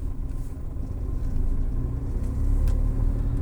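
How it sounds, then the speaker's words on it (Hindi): A car drives along a quiet road at night, its engine and tyres making a steady low rumble from inside the cabin, slowly growing louder, with no talking. "और ये हमारी गाड़ी हो गई है शुरू।"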